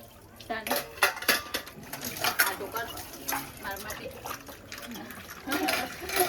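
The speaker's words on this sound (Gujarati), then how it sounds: "કિંજલ વાસણ ઘસી રહ્યો" Dishes clatter and scrape repeatedly with running water, close by, while a voice and other talk run underneath.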